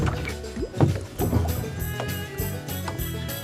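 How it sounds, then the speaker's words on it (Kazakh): A cartoon rowboat being paddled, with a regular series of splashy oar strokes repeating steadily, fairly close and clear against a soft background. "Ескекті қайық,"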